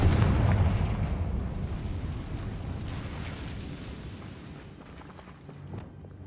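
A Confringo blasting spell explodes in the Hogwarts Legacy video game: one heavy, booming blast with a rumbling tail that slowly fades over several seconds, with no talk.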